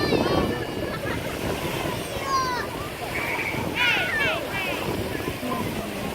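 At a beach on a chilly day, waves and wind make a steady broadband rush with gusty microphone rumble, while a nearby voice talks over it.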